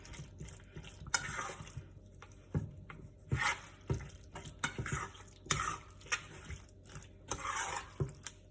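Liquid is added to a pot of box mac and cheese and stirred, giving irregular wet scraping and clinking bursts of spoon against pot, close and fairly quiet, with no talking.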